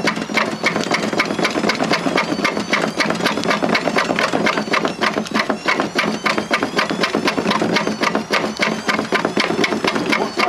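A washing machine motor running hard with a brick tumbling inside, a loud continuous mechanical drone with dense rapid knocking and clattering throughout, close and steady with no talk.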